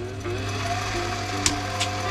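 A Sieg C2-300 mini lathe runs on automatic feed, with a steady tonal motor hum and whine and a couple of brief metallic ticks, no speech.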